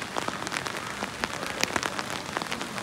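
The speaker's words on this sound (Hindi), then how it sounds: "ये अभी बहुत तेज़ बारिश हो रही है" Heavy rain pours down close by in the Neelam Valley, drops spattering and pattering densely on a hard surface in a constant, uneven rush.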